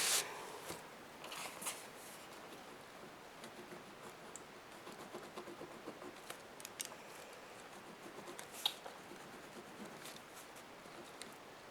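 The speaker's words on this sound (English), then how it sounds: "I'm going to write it down." A pen writes in a schoolbook with soft, close scratching strokes and faint paper rustles in an intimate, quiet setting, with no talk.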